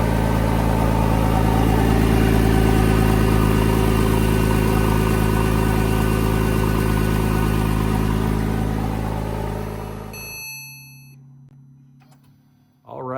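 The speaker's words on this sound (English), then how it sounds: "We're gonna start the car, let it run" A 997-generation Porsche 911 idles after an oil change, with a steady, even engine drone running loud for about ten seconds before it shuts off. A brief electronic beep and a faint rustle follow.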